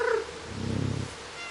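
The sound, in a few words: cat meowing in the video game Stray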